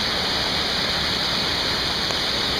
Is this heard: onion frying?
no